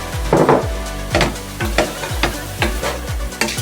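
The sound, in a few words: rainbow vegetables sautéing in a pan for fried rice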